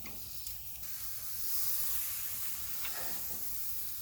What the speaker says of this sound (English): you putting the onions on now?